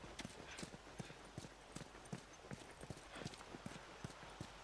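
Horse hooves clip-clop in The Last of Us video game, a steady, evenly spaced run of quiet hoofbeats over a soft background hiss.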